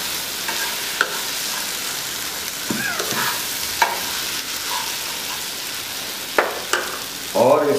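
Fried fish being stirred and mixed into a creamy fish curry in a pan, with steady close sizzling broken by repeated spatula scrapes and knocks against the metal.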